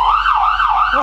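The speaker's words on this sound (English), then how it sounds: "That's a siren." A new ambulance's siren wailing loud and close, a smooth rising and falling tone cycling steadily without pause.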